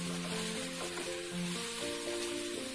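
Onion and curry leaves sizzle steadily while frying in a pan for a restaurant-style chicken chukka, a continuous close hiss with no talking.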